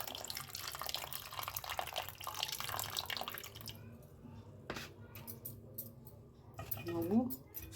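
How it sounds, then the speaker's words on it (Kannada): Tamarind water is poured into a pot of drumstick-leaf rasam, a steady splashing stream for the first few seconds that then stops, leaving quiet kitchen sounds and a faint voice. "ಹುಣಸೆಹಣ್ಣು ರಸ ಅದನ್ನು ಇದಕ್ಕೆ ಹಾಕೋಬಿಡೋಣ."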